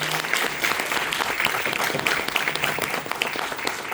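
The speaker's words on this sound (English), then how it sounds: "I'm sure everybody would just like a round of applause to say well done for such a great job." Keynote audience applauding a team for a job well done, a dense, steady wash of many hands clapping at close range that holds for the full stretch without a break.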